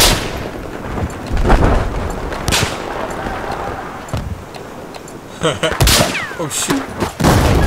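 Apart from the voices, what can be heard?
M32 MGL grenade launcher fire in video game Battlefield 4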